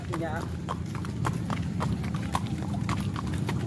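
Horse hooves clip-clop in a brisk, regular rhythm during a ride near Conggeang's town square during Ramadan, the sharp hoofbeats close and clear under ongoing conversation.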